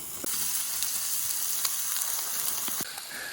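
Steady crackling sizzle of thick food frying in a hot pan at a campsite, continuous and close, with occasional sharp pops; no talking.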